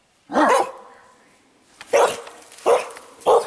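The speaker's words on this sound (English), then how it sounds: "Oh, those are dogs." Hunting dogs barking outdoors at Providence Canyon State Park, Georgia: one bark, then after a pause three more sharp barks in quick succession, fairly close and loud.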